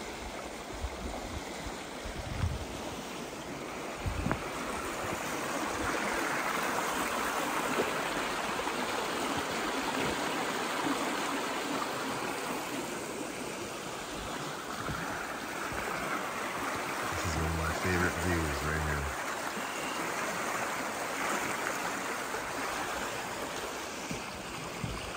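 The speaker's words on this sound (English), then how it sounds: "I'm at the bridge. So let me capture the level of the water" A river flows under a bridge in a steady, broad rush of water that stays even and continuous for the whole stretch. Faint wind noise and a brief low rumble sit beneath it, and no one speaks.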